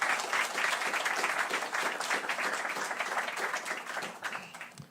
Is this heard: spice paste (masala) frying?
no